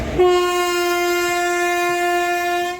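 A loud, sustained horn from the Deoghar–Howrah Mayurakshi Express passenger train blares steadily for nearly three seconds, rich and harmonic, close by with no talk.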